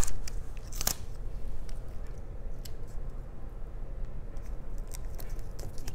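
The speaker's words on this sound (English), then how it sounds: "it's okay if the tape's too big for the pumpkin because you could just cut that off." Scissors snip through tape on a paper pumpkin garland, with a few crisp, close cuts over soft rustling of paper and handling noise.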